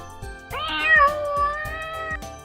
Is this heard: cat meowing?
yes